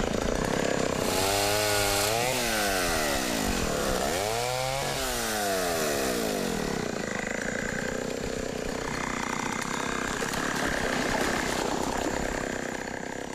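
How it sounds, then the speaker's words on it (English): A chainsaw cutting logs roars loudly, its engine revving up and down in repeated sweeping pitch changes before settling into a steady, rough cutting drone. "they keep the chainsaw close at hand"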